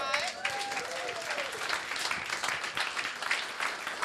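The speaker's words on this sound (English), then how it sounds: "let's give her a round of applause." An audience at a Saturday night comedy show applauds in a full, dense burst of clapping that carries on throughout, with a few faint voices and whoops mixed in.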